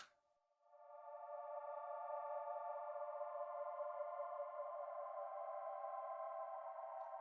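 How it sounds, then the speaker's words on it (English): Sustained synth pads from a progressive house intro swell in after a brief quiet start, then hold a bright, steady layered chord at even loudness with no voices. "I added some pads that sounds like this."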